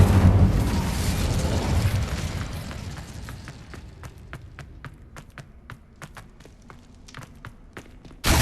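An Incendio fire spell is cast in the Hogwarts Legacy video game, a loud whooshing blast that fades into crackling and sharp pops, with another burst at the very end.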